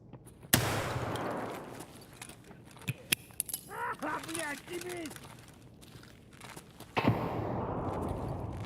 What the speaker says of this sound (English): Oh, that was a good grenade.